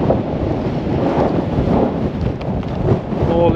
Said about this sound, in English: Wind's just died down ever so slightly there